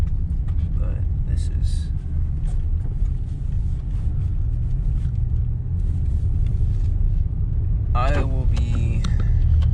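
A car drives along a road with a steady, close engine and tyre rumble running the whole time, while people talk inside the car over it.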